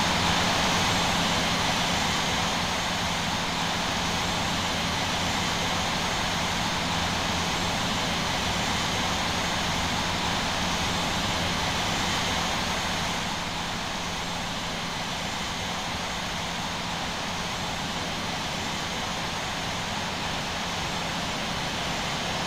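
Airliner jet engines idling and rolling while taxiing to runway 19 in the Infinite Flight simulator, a loud, constant broadband roar that eases slightly partway through.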